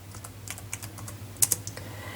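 Typing on a computer keyboard to enter a command in Arch Linux, a quick run of light key clicks with a couple of louder taps near the middle over a faint steady hum.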